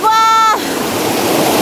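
Water of the Pumachaca river rushes in a steady broadband roar, close and loud, following a brief high tonal sound at the start.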